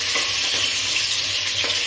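Chopped tomato and green chillies sizzle in oil left over from frying eggplant, a loud, close, steady hiss with faint stirring, and no voices.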